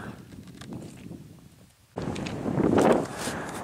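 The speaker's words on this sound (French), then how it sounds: "désolé pour le vent là" Mountain wind buffets the microphone on a trek near the Taillefer peak above Grenoble, a dull rumbling gust that eases, drops nearly out, then returns stronger and louder for the final seconds.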